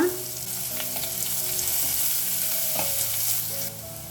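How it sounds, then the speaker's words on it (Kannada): Curry leaves sizzle with onions frying in a pan for a sprouted-gram breakfast dish, a steady close crackle and hiss with stirring scrapes, running alone throughout. "ಇವಾಗ ನಾವು ಇದಕ್ಕೆ ಒಂದು ಸ್ವಲ್ಪ ಕರಿಬೇವಿನ ಸೊಪ್ಪನ್ನು ಹಾಕೊಳ್ಳೋಣ"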